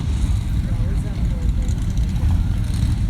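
A 1972 Corvette rumbles with a deep, steady exhaust drone during a rolling exhaust contest at Carlisle, while an announcer talks over the engine noise.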